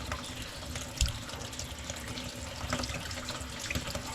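Running water steadily washing food at a sink or basin on an island, a constant close splashing flow with a few brief louder splashes and no talk.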